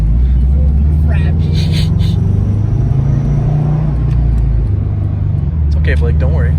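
A Subaru STI engine rumbles loudly and steadily up close with deep low-end drone, while people talk over it.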